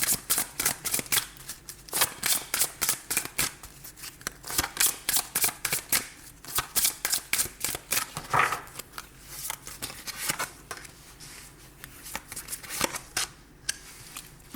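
Tarot cards are shuffled for a reading: a long run of quick, papery riffling bursts in uneven rhythm, close and fairly soft, with brief pauses between rounds and no talk.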